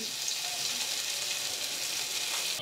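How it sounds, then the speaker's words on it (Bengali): Chicken Bihari kebabs sizzle in a pan on a stove, a continuous, even hiss of frying with no other sounds. "আরো কিছুক্ষণ চুলার মধ্যে এভাবে উল্টিয়ে পাল্টিয়ে কাবাবগুলো ভেজে নিয়েছে।"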